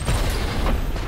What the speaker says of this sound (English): I keep forgetting the explosion hurts you.